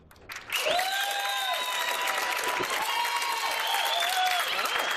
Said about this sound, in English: I would like to have you give a really warm, loud cheer, welcome, stand up, stomp your feet, SMTULSA welcome for Becky McCrae.